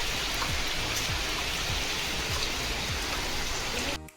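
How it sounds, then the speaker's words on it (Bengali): Heavy rain pours steadily outside, a dense, loud and unbroken hiss of falling water that goes on with no one speaking and stops abruptly just before the end. "বাইরে তো দেখো না ঝমঝমিয়ে বৃষ্টি নামলো"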